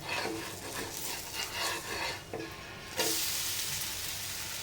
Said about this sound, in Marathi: बघा इथे साईड साईडला असं भाजायला लागलेलं आहे आपला डोसा